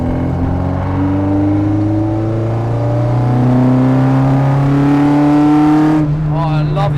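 A Ford Fiesta XR2 with a 2.0 Zetec engine on individual throttle bodies, making about 190 bhp, revs loudly and up close, its pitch climbing steadily through the gears before lifting off near the end.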